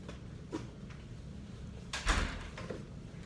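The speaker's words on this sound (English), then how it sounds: "Let me shut this door." An indoor door being shut, a sharp thud with a brief rattle, preceded by a few quieter knocks and handling sounds, heard faintly in a quiet room.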